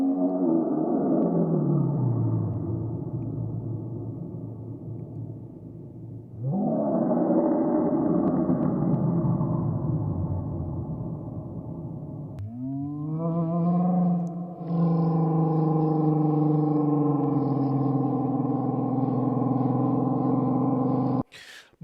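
Dinosaur roars and calls played back from a video, heard as three long, loud sweeping bellows in sequence, the last a sustained harmonic cry with an echoing, reverberant quality and no talk over it.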